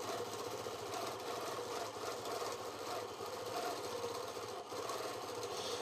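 A sewing machine runs continuously for free-motion micro stipple quilting on a quilt block, giving a steady, close, loud mechanical whir with fast rhythmic needle knocking and one brief dip near the end.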